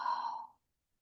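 A single slow exhale during a Pilates foam roller exercise, close and soft, a breathy sigh that lasts about half a second and then fades into silence.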